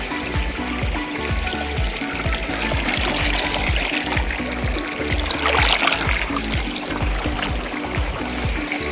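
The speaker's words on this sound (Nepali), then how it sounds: "सो यहाँ चाहिँ खोला दामी छ है" A village stream flows in steady, continuous trickling and burbling, close by and fairly loud, with no talking.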